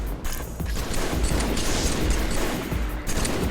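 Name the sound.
gunfire exchanged at long distance in a video game (Halo 3)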